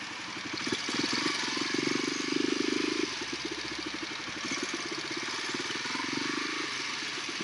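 A small motorcycle engine running steadily while riding to school, with a close, constant mid-pitched putter that swells briefly a couple of times.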